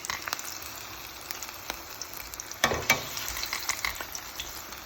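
Plantain slices for patacones frying in hot oil, a close, steady sizzle and crackle that swells with a louder burst of spattering midway through, with no voices.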